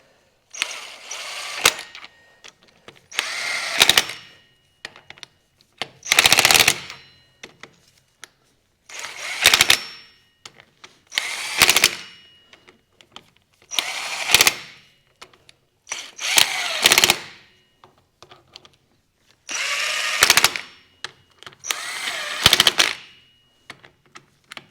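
Power tool driving and torquing bolts on the MFWD front axle of a John Deere 410G backhoe, in about eight separate loud bursts of a few seconds each with short quiet gaps between, no talk.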